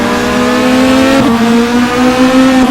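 A race car accelerates hard while overtaking on the Brno circuit, its loud engine note climbing steadily in pitch, dipping briefly at a gear change and then rising again, close and sustained.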